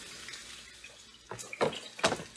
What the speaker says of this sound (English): I'm going to wash my cutting board.